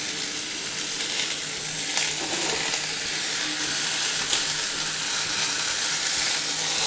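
Potato pieces and pointed gourd fry together in a hot pan, giving a steady, loud, broadband sizzle that holds evenly for the whole stretch with faint stirring scrapes and no talk.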